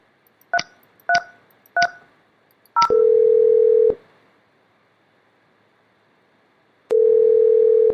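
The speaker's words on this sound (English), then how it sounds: "Dial James extension 3330." Mitel 5320 IP phone keypad sends four crisp touch-tone beeps in a quick, even rhythm, followed by a steady dial tone that stops, a pause of near silence, then the tone returning, close and clear with no voices.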